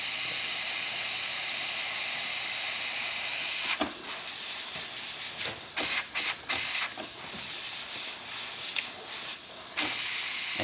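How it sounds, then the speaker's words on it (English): The steam wand on a Breville Oracle espresso machine hisses loud and continuous, broken midway by a run of sputtering, gurgling bursts before the steady hiss returns. "steam is ready to go with excellent pressure and really good flow coming out"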